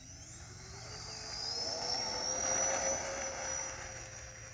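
A Horizon Hobby A-10 radio-controlled jet, ordnance removed, taking off at about half throttle outdoors, a steady high turbine whine that swells and rises in pitch, moderately distant, with no talking.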